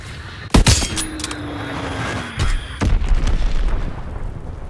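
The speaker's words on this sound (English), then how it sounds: "Enemy bomb incoming! Get to cover!" A bomb explosion in Call of Duty: WWII multiplayer, with a sharp loud blast followed by further heavy impacts and debris, set against steady battlefield background noise.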